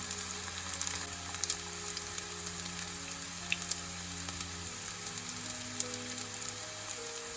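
Raw chicken mince cutlet frying in oil over medium heat, a steady, soft sizzle running evenly throughout with no talking.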